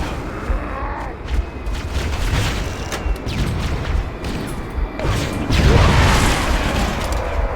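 A frag grenade explodes in Halo: Silent Cartographer, with several heavy booms and crashing bursts amid rattling gunfire, loud and close.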